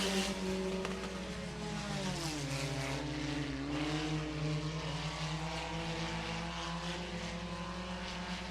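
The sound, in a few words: hobby stock race cars racing at Hancock County Speedway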